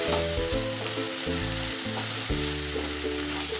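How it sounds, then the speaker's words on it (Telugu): Vegetables fry with a loud, constant sizzle while yogurt is stirred into them, and a low steady hum runs underneath the whole time. "పెరుగు వేసి కలపండి"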